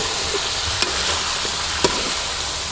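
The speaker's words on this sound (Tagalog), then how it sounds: "Sangkot ka natin mabuti mga idol hanggang sa lumabas ang mantika" Chicken necks and more than a kilo of wings stir-fried in a pan until their fat renders, giving a steady broad hiss with two brief scraping clicks from the stirring, no voices.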